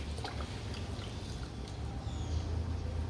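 Water poured into a thick homemade mango drink, a soft, steady liquid splash and trickle heard up close at low volume with no talking.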